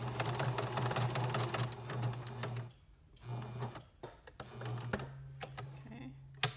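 A sewing machine stitching around a small fabric piece bearing words: runs of rapid mechanical whirring and needle clatter come in several bursts, pausing briefly between them, close and moderately loud.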